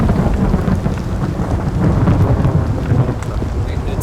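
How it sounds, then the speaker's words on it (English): Heavy rain and rumbling thunder in the Metro game mod Vostok, a dense continuous downpour with deep low rolling thunder, loud and enveloping throughout, with no voices. "So I know it's because it's raining"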